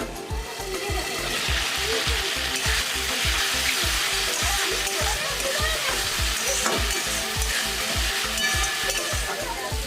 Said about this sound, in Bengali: ঢাকা দিয়ে মশলাটা ভেজে নেবো।